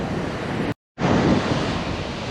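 Surf washes onto the sandy beach at Dawlish Warren in South Devon, a continuous broad roar mixed with heavy wind buffeting, briefly cut to silence before resuming.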